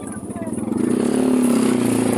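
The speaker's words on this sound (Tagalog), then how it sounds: "Dami mga motor." Motorcycle engines rumble and rev nearby, growing louder partway through as bikes pass, with steady traffic noise throughout.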